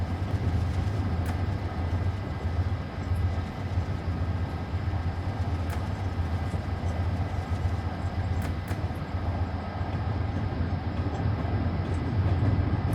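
A P32AC/DM locomotive in Train Simulator on the New York New Haven line drones with a steady, continuous rumble and low hum, unchanging and close, with no talking.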